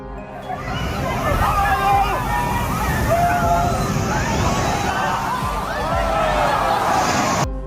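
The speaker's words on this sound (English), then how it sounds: "these people were knocked down by the powerful waves" Powerful sea waves crash onto a group of people and knock them down, with loud continuous sloshing and churning water. Excited crowd voices and shouting run underneath throughout.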